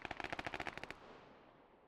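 In a capture-the-flag shooter game, a quick, faint burst of about a dozen rapid gunshots fires in an even rhythm, then cuts off, leaving a trailing echo.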